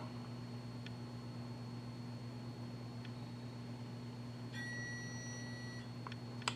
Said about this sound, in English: So now we have an alarm.